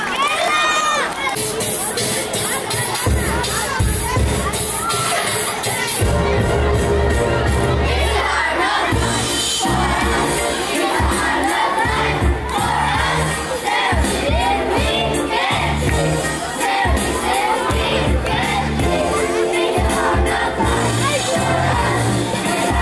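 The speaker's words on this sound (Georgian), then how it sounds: "დიდი ტაშით მივესალმოთ." An audience at a school's tenth-anniversary celebration cheers loudly for a third-grade class about to sing, with dense crowd noise, shouting children and whoops that continue steadily throughout.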